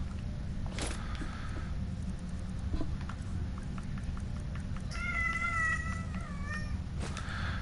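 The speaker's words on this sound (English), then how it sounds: "A cat meowed in the background." A cat meows twice in short, clear calls amid quiet game ambience and faint footsteps in the video game Skyrim.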